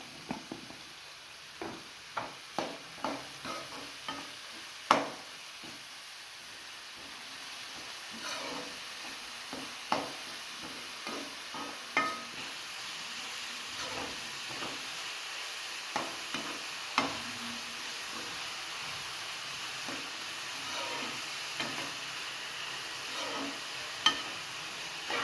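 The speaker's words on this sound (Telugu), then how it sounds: "ఉప్పు వేసుకుంటే కొంచెం తొందరగా వేగుతాయి." Food frying in a pan with salt, as for chicken fried rice: a steady soft sizzle throughout, broken by irregular clinks and scrapes of a stirring spoon, close and moderately quiet.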